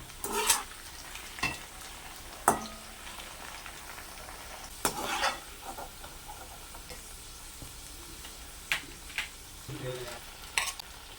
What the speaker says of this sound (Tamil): இப்போ எண்ணெயில் போட்டு வறுத்து எடுத்துக்கலாம்.